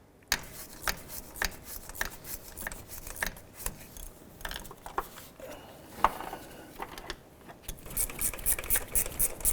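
Bolts being tightened on a 2001-2007 Ford Escape engine give a close series of irregular metallic ratcheting clicks and scrapes, quiet between bursts, with no voice.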